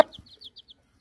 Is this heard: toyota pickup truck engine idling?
no